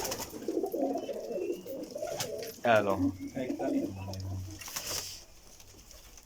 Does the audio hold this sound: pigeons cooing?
yes